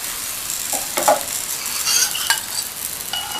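Chapati cooking in oil on a hot pan gives a steady soft sizzle, with a few brief scraping and stirring touches from a utensil, close and alone without voices.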